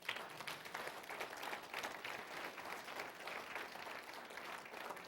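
Audience applause at a University of Massachusetts Boston honorary degree dinner for the 42nd commencement, a steady round of clapping from a roomful of diners, fairly quiet and distant, continuing evenly throughout.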